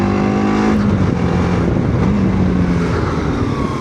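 A TVS Apache RTX 300 motorcycle revving while being ridden, a loud close engine note that rises and dips in pitch, steady throughout.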